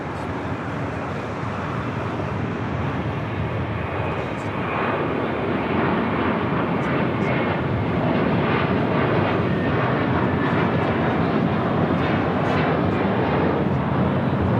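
An American Airlines Airbus A321 departing LAX for JFK gives off a loud, sustained jet engine roar that builds slightly and stays dense and steady, close by.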